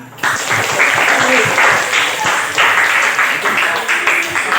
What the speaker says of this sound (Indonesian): Beri hapus tepuk tangan